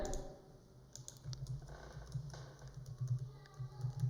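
Quiet, rapid clicking of keys on a computer keyboard during a spreadsheet task, a steady patter of soft taps close to the microphone over a low background hum.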